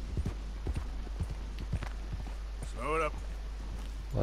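Hoofbeats of a horse being ridden in Red Dead Redemption 2, an irregular clip-clop of several quiet steps, followed by a brief high call and low background hum.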